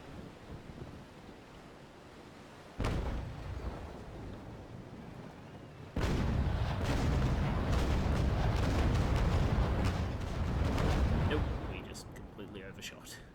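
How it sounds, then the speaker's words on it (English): Naval cannon broadside in the Naval Action sailing game, deep booming blasts hitting suddenly at two points and giving way to a long rolling rumble, over a constant wind-and-sea wash. "See if we can hit Jack Frost here with a few shots of our double"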